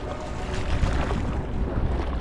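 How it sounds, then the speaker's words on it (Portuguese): A small boat is paddled against a southwesterly wind and current at Arraial do Cabo, with steady wind buffeting and water wash throughout and no clear separate paddle strokes. "Agora vamos remar contra o vento, contra a correnteza, que o vento é sudoeste."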